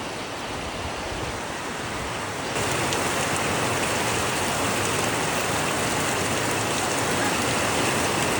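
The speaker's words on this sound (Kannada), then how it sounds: "ಸಿಕ್ಕಾಪಟ್ಟೆ ಮಳೆ ಹೊಡಿತಾ ಇದೆ ನೋಡಿ ಇಲ್ಲಿ" Heavy rain pours down steadily in an open harvest-season setting, a dense broadband hiss that thickens and grows louder a few seconds in, then continues unbroken with no voices.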